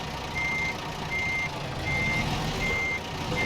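Truck reversing beeps sound in American Truck Simulator, a steady series of four evenly spaced electronic tones over a constant engine rumble, alone with no talk.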